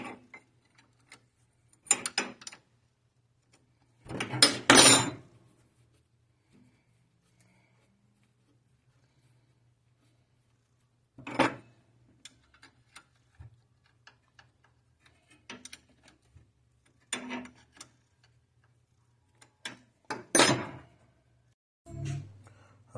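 Socket wrench ratcheting bolts loose from a cover on a 1953 Chevy 210 convertible frame, crisp ticking clicks in short bursts separated by long quiet gaps, close and fairly loud with no talk.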